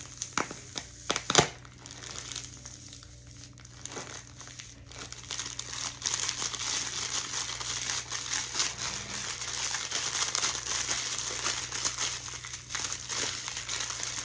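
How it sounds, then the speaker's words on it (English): A pack of crackers crushed by hand, a steady close crinkling and crunching of wrapper and crumbs that begins with a few sharp loud crackles, then runs dense and continuous, with no talking. "Now we're going to crush a pack of crackers."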